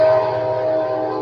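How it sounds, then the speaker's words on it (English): A Kansas City Southern train whistle blows as one steady, loud sustained tone, alone without talk. "Let the train whistle blow. Yeah, it's the Kansas City Southern."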